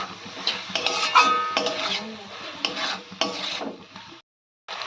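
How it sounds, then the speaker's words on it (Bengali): Sauce for vegetable chowmein is stirred in a pan over low to medium heat, a metal spatula scraping and clattering against the pan in busy irregular strokes, close and fairly loud, with a faint sizzle underneath before a brief silence near the end. "একদম লো টু মিডিয়াম আঁচে রেখে আপনারা সসটাকে কষিয়ে নেবেন।"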